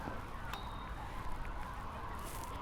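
Birds around the crumbling old buildings on Alcatraz give a few brief, honking calls in the distance over steady wind and outdoor noise.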